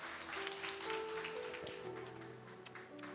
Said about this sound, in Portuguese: Uma salva de palmas para o Espírito Santo de Deus